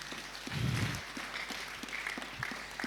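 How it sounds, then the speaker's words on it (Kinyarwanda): A brief burst of applause rises from a church congregation praising God, peaking for about half a second before fading into a low murmur of the crowd. "dore Imana amashyi"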